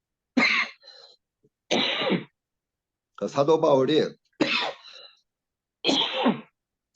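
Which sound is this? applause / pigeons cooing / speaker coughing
speaker coughing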